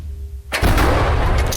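A single loud artillery gun blast on a war front erupts after a brief quiet moment, its boom spreading and lingering as it fades.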